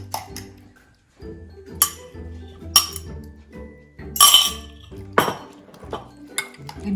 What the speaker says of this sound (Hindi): तो इसमें हम डाल देंगे 2 अंडे जो हमारे रूम टेम्परेचर पे थे